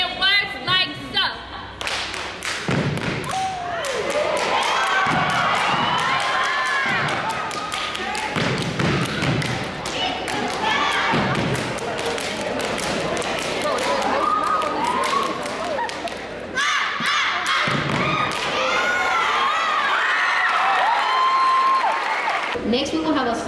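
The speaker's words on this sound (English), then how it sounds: "Steppers use their bodies as instruments to create intricate sounds and rhythm using a combination of footsteps, hand claps, and words like so." Steppers at a Black History program beat out rhythm with their bodies, sharp hand claps and stomping footsteps in quick, intricate patterns, close and loud, with short pauses between phrases and voices joining in.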